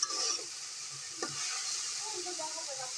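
Fresh coriander leaves are stirred as they fry in a pan, a soft sizzle running under occasional scrapes of the spoon, with one sharper knock partway through; quiet and close.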